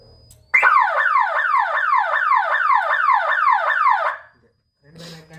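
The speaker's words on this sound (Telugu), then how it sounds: "సైరన్ మోతుంది అంటే ఏ వైర్ లైన్ ఎవరైనా సరే ఎవరైనా అంటే సైరన్ మోతుంది." A loud electronic solar fence alarm siren wails in rapid rising sweeps for about three and a half seconds, then stops.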